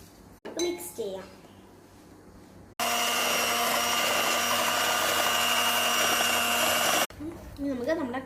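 An electric mixer whips cream for a cake, giving a loud, steady whirring drone that runs for several seconds. Speech comes just before and just after it.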